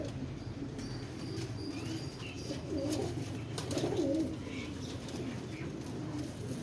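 A plain, uncoloured pigeon gives soft, low cooing over a steady background hiss, swelling briefly in the middle before fading back. There may be faint wing flutters, and there is no speech.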